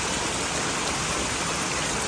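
Heavy rain pours down outdoors over a yard with plants, a dense, unbroken roar of falling water that stays loud and even throughout with no voices.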